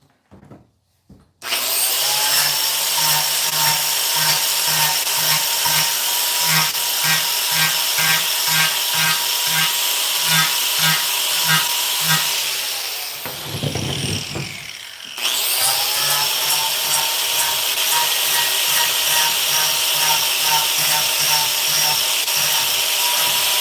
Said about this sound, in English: Let's go a little bit more with the rasp here.